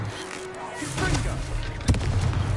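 A Confringo fire spell blasting in Hogwarts Legacy: a short sharp burst near the end over a busy backdrop of combat effects, with brief spoken voice around it.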